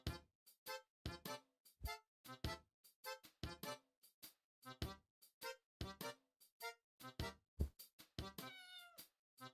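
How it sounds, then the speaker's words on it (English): A rapid series of cat meows, one after another with short gaps, clear and close, ending in a longer drawn-out yowl. "They didn't use the same, like, meow sound effects."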